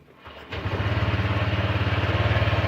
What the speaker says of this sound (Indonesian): baru hidup mesin